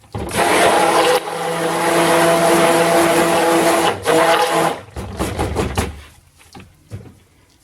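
A stick blender roars loudly through cold process soap batter for several seconds, with a brief dip in the middle, then stops and gives way to scattered knocks and handling noises.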